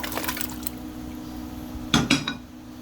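Ingredients dropped into a large pot of water just coming to a boil for hot pot, giving a couple of close clattering splashes and knocks against the pot over a steady low hum.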